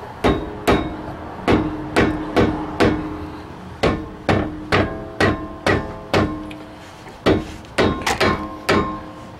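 Steady run of sharp metallic hammer taps on the back of a brake rotor on a 2008 Saturn Vue, close and loud, about twenty ringing blows at an uneven but insistent pace with no talking.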